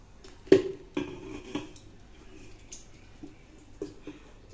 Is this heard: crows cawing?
no